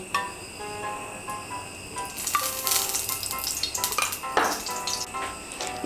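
Crackling sizzle of bay leaves and whole mustard seeds popping in hot oil, growing louder and spattering in bursts partway through, with no talking.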